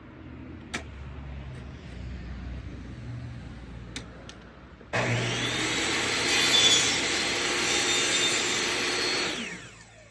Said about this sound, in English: A little bit too tight. Shave a little off it.